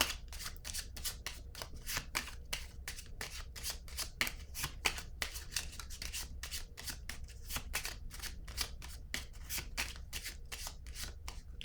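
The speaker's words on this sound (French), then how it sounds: "Là, je vais piger une autre carte." Cards shuffled from a deck during a tarot-style reading, heard as a long run of quick, crisp riffling flicks at an even pace, close and fairly soft, with no talk over them.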